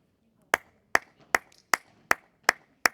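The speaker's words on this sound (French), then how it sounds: "je suis seul à applaudir, c'est dur" One person claps alone after a padel match ends, seven sharp, evenly spaced claps over a few seconds in an otherwise quiet venue.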